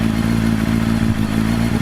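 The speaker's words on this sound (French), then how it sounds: "on va essayer de monter la moto juste pour voir si elle passe avec le guidon" Motorcycle being pushed up into a coach bus, giving a close, steady low mechanical drone with faint clattering knocks, lasting about two seconds without speech.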